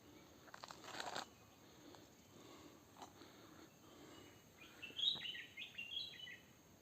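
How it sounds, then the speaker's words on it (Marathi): Birds sing in a hilly forest, with a burst of bright, high chirps and twittering arriving later and standing out over a faint ambient background. "पक्ष्यांचा आवाज तुम्ही ऐकू शकता"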